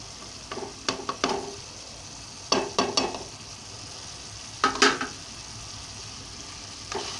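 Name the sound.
stirring mutton curry with tamarind leaves in a pan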